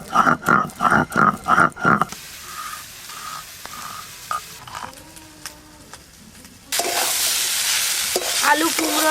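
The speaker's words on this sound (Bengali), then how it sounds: "আলু, কুমড়ো আর পুঁই শাকের ডাঁটা ভালো করে নাড়া হয়ে গেছে।" Potatoes, pumpkin and Malabar spinach stalks are stirred in a pan, with a rhythmic run of loud scraping strokes, then a softer pause, then steady close frying sizzle.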